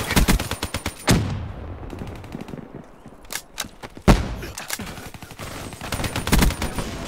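Gunfire in Black Ops 3 comes as rapid automatic bursts with sharp, close reports. Several volleys are split by short pauses, and a heavy blast hits midway. No one talks.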